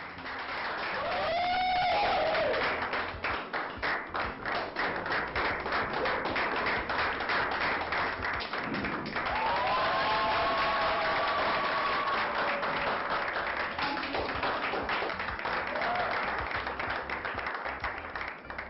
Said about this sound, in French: S'il vous plaît, encore plus d'applaudissements pour notre gagnante